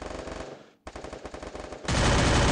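Rapid automatic gunfire from the Garena Free Fire video game during a Total Gaming versus GG esports match, with bursts of shots, a brief pause, then a louder and denser barrage of gunfire.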